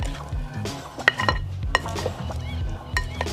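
Seasoned pizza fries tossed in a bowl with pepper and salt, giving close clinks and scraping stirs with a few sharp knocks against the bowl, no talk.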